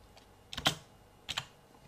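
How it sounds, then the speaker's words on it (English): Light, quiet keystrokes on a computer keyboard: a few quick clicks in two small clusters, close by, with no talking. "we're gonna type in Ronyasoft"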